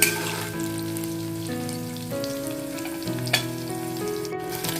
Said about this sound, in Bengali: পনিরগুলো আমার ফ্রাই হয়ে গেছে হালকা লালচে হয়ে এসেছে